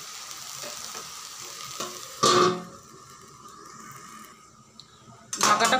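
Prawns wrapped in taro leaves frying in a covered pan: a low continuous sizzle with two sharp bursts of loud crackling and clatter as the lid or spoon is handled.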